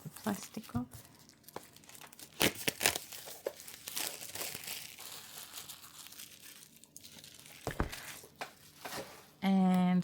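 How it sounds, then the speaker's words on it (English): Plastic wrapping crinkles and tears in bursts as it is pulled off cheap art supplies from Kmart, loud and close, while a person talks throughout. "Oh, get the plastic off."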